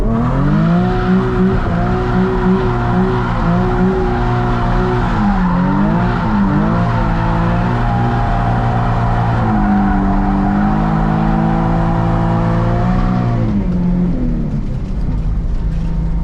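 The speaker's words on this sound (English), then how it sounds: "That was like the first legitimate skid mark that we've left in this car in over 2 years." A Nissan 350Z engine roars steadily at high revs while the tires squeal continuously in a parking lot, the pitch sliding up and down through a long drift before easing off.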